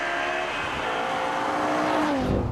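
A BMW M3 wagon fitted with an M5 engine accelerates hard, its engine howling loud and close with a rising tone and rapid gear changes, ending in a sharp dropping note as the revs fall.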